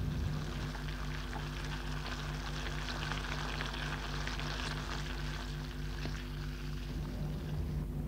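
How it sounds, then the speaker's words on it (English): Eggs and bacon frying in a pan, a steady close sizzle and crackle running unbroken throughout with a low constant hum beneath, no voices. "Then he fried his eggs and bacon."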